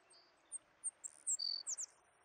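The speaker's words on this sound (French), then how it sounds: "Là, au moins, les oiseaux, tu les vois arriver." Birds chirp in the forest of the video game The Forest, a handful of short, bright tweets coming in quick succession and growing denser, heard alone over a faint, quiet background.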